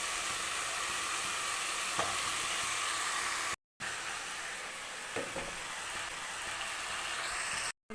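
Raw plantain and tomato fry in a pan for a home-style vazhakkai fry, giving a steady close sizzle with occasional stirring scrapes. The sound is briefly cut twice.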